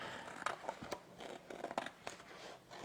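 Scissors cut out an angel design from a stencil transfer sheet, making quiet, close snips and crisp crunches in an uneven rhythm.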